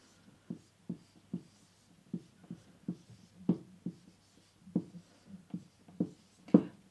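A pen or pencil on paper writes out a word by hand. The scratchy strokes are short and close, quiet and irregular, with pauses between them and no talk over them.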